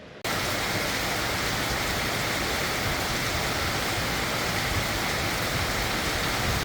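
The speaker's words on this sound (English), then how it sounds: "It's been raining nonstop since we've been here" Heavy rain pours down in a loud, continuous hiss, close and unbroken, with no voices.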